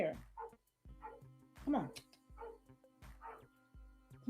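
Two dogs bark and yip in short repeated bursts close by, with a person talking over them.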